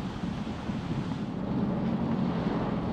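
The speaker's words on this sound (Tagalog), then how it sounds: "Ang malakas na hangin dala ng bagyong Ofe sa Tumawini," Strong typhoon wind from Typhoon Ofel in Tumauini, Isabela, a loud, continuous roaring rush buffeting the microphone, steady throughout with no voices.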